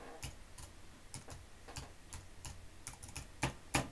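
Typing on a computer keyboard while setting up a blog site, crisp, close key clicks in an irregular rhythm of single taps and short bursts, quiet room with no talking.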